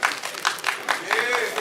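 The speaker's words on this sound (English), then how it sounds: "Yeah, don't be scared to clap." Brief, light applause from a panel discussion audience, a soft patter of clapping heard under a voice as he keeps speaking.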